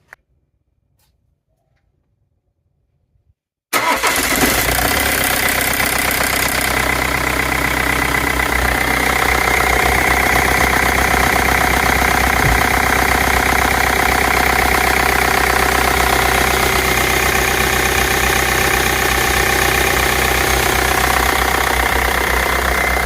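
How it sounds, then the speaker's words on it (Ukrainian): After a few seconds of silence, the 2.0 diesel engine of a 2000 BMW 3 Series E46 320d, just fitted with a new crankshaft pulley, starts and settles into a steady, loud idle with a low rumble and faint ticking, continuing without talk. "можемо пробно запустити двигун, подивитись на його рух"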